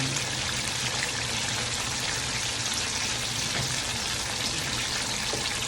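Onions frying in oil left over from frying fish, a dense continuous sizzle with bubbling, steady and close throughout, no talk.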